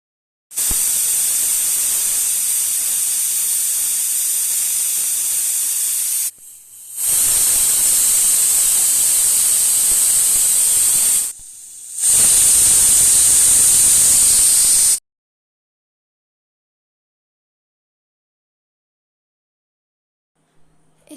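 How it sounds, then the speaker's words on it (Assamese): Pressure cooker whistling while chickpeas cook: three long, loud, steady hissing whistle blasts of about five seconds each, divided by brief gaps, then silence. "মই কুকাৰৰ হুইচেল বেছিকৈ দিম 4টা দিছোঁ"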